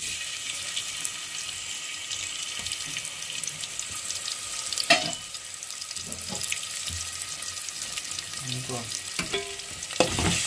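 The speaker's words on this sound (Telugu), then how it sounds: "ఆయిల్ బాగా హీట్ అయిన తర్వాత అల్లం వెల్లుల్లి పేస్ట్ చేసుకుందాం" Ginger garlic paste fries in hot oil with a steady hissing sizzle, broken by clanks and scrapes of a utensil against the pan, moderately close and with no talking.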